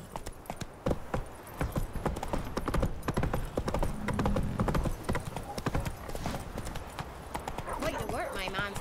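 Horse hooves gallop at a steady rapid clip-clop in The Witcher 3, loud and close, with game music, ambient effects and voices talking over the hoofbeats throughout.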